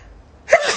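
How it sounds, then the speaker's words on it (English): A person sneezes once: a sudden, sharp burst that breaks a near-silent pause, close and loud, then trails off briefly. "Hold on, I have to sneeze."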